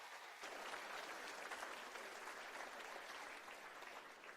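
A church congregation applauds together at a worship service in Manila, a steady dense wash of clapping that holds evenly for several seconds at a moderate distance.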